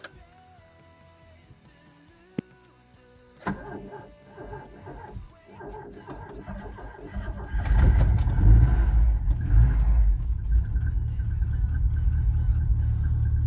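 A Rover 220 Turbo car that has sat unused cranks after faint clicks, then the engine catches and settles into a loud, rough rumbling idle for the rest of the clip.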